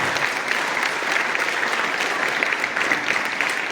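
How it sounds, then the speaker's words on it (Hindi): Audience at a district cricket association training ceremony applauding loudly, a dense, steady wash of many hands clapping throughout, close and sustained without pause. "तालियां बहुत जोर से बननी चाहिए"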